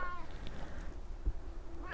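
A stray cat meows close by while being fed, a drawn-out call at the start followed by quieter murmurs and faint rustling.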